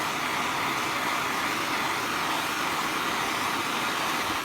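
An angle grinder cuts a copper crimp ring off plumbing, producing a steady, dense broadband grinding roar that holds evenly for several seconds before stopping abruptly.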